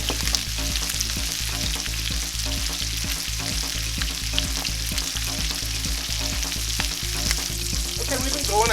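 Pork tenderloin sears in a hot pan with a loud, continuous sizzle, broken by regular scraping strokes as it is moved and turned; no voices.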